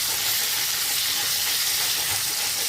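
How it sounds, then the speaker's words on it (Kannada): Tomato sizzling in hot oil in a pan for a Savji mutton gravy, a steady close hiss of frying with faint crackle throughout, no voices. "ಅದಕ್ಕೂ ಸಹ ಸ್ವಲ್ಪ ಎಣ್ಣೆಯನ್ನು ಹಾಕಿಕೊಂಡು ಅದರಲ್ಲೇ ನಾವು ಇದನ್ನು ಸಹ ಫ್ರೈ ಮಾಡ್ಕೊಳ್ತಾ ಇದ್ದೇವೆ"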